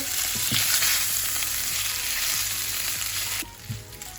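Small chicken pieces fry in a pan with a steady, close sizzle and a few soft stirring knocks, no voices.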